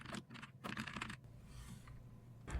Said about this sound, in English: I will just type in something random